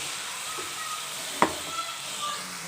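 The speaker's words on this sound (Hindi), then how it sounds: "10 मिनट से ज़्यादा ही हो गए हैं मुझे इस गोभी को भूनते हुए।" Cauliflower frying in a pan with turmeric and red pepper makes a steady, even sizzle, with one brief scrape of stirring midway through.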